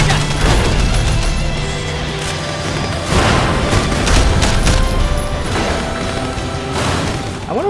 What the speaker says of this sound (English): I wonder what these highway drivers are thinking about, like all these explosions.